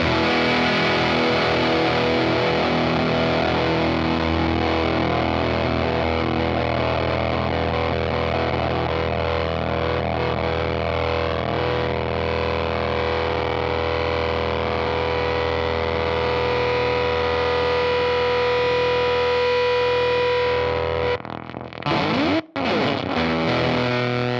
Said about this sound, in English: It does this fun, glitchy decay thing where the tone kind of dies.